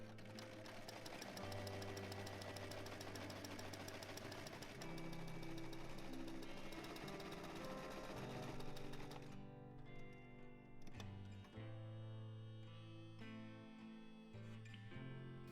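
A sewing machine stitches an elastic band onto the sides of a dress in a continuous rapid mechanical chatter, close and steady, then slows and turns more uneven toward the end.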